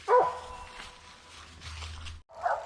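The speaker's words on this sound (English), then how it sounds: "Dog's treed one over here." A hunting dog barks at a squirrel up a tree during a January squirrel hunt in the woods: one sharp bark at the start, quiet rustling, then another short bark near the end.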